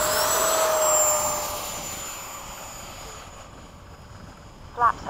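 An F-5 jet roars loudly during its takeoff roll at Bayside, a broad engine rush with a rising whine that gradually fades, ending with a brief knock.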